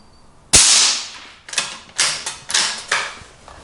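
The bolt of a Savage B.MAG .17 WSM bolt-action varmint rifle is worked close up: a sharp metallic clack, then a run of four or five rhythmic mechanical clicks and slides.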